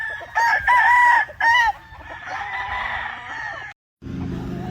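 A pure Chocolate Grey gamefowl rooster crows loudly and close, two strong cock-a-doodle-doo calls in quick succession followed by fainter clucking and farm background noise.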